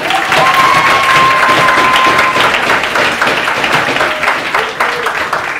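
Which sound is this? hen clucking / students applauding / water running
students applauding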